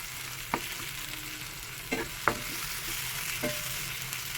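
Mashed roasted eggplant being stirred in a frying pan, a steady low sizzle with a few sharp scrapes of the spoon against the pan spaced a second or so apart, close and fairly quiet, with no talking.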